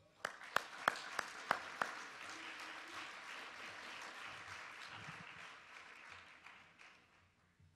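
Applause at a spring gala rises after a few sharp, distinct claps into a full, sustained round of audience clapping that slowly thins toward the end.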